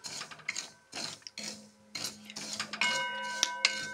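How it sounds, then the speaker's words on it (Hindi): Poppy seeds being dry-roasted in a pan without ghee, their light rasping and scraping broken by scattered stirring clinks of a utensil on the metal, close and fairly quiet with no talking. "पहले हम भूनेंगे खसखस। खसखस घी में नहीं भूना जाता है"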